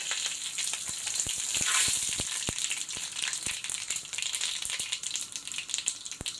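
Mustard seeds, fennel, bay leaf and cinnamon sizzle in hot oil, a bright continuous hiss broken by sharp pops and spatters that crackle irregularly throughout, close and fairly loud, with no talk.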